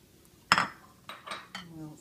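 A spoon stirs tuna casserole ingredients (green peppers, celery and pimento) in a dish, with one sharp clink followed by three softer scraping knocks, close by and with no talk.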